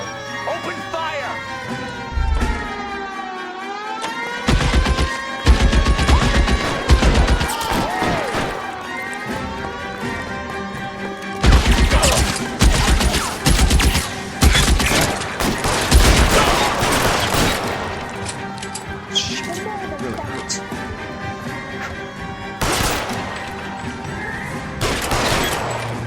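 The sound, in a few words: gunfire in a shootout, from the video game L.A. Noire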